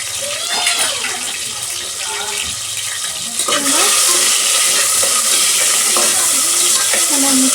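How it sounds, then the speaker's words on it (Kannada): Curry leaves and chopped onion hit hot oil in a tempering for chayote sambar, sizzling loudly as a spoon stirs and scrapes the pan; the frying surges and stays steady and close throughout. "ಸ್ವಲ್ಪ ಕರಿಬೇವು ಸೊಪ್ಪು ಹಾಕೊಳ್ತಾ ಇದ್ದೀನಿ. ಈರುಳ್ಳಿ ಸೇರಿಸ್ಕೊಳ್ತಾ ಇದ್ದೀನಿ."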